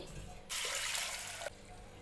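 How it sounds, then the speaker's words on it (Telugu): Tap water pours into a pressure cooker to rinse toor dal, a steady one-second gush of running water that starts and stops abruptly in a home kitchen. "కందిపప్పును ముందుగా కుక్కర్లో వేసి వాటర్తో శుభ్రంగా కడగాలి"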